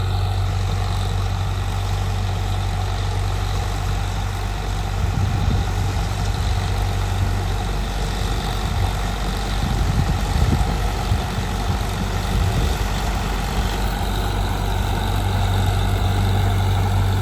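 A heavy tractor engine powering a three-fan, 62-inch straw machine runs loud and steady, a constant low rumble that swells briefly midway, close up with no voices.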